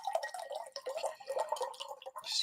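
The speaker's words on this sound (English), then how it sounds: "So I'm just going to fill my water up here" Water running into a bottle, a steady faint trickle and gurgle that carries on without a break, heard alone and at low volume.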